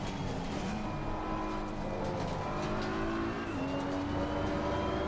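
A race car in a racing video game at Spa, engine droning at high revs with shifting pitch as it upshifts and accelerates, a constant close, loud engine tone throughout.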